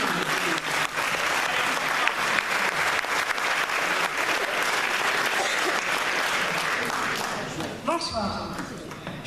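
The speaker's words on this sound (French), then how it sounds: "On peut les applaudir parce que c'est dur." A crowd gives loud, sustained applause after a 2017 New Year's wishes speech in Coutras. The clapping is dense and steady, then fades near the end as a voice begins to speak.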